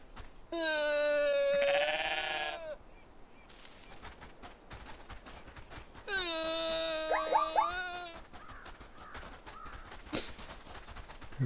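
Goat in the video game Everything singing back and forth with the player's creature: two long, tonal, harmonic bleat-like calls with bright overtones, each lasting about two seconds and separated by a quiet gap with faint clicks.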